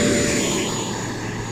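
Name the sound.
E-Flite Viper RC jet aircraft flying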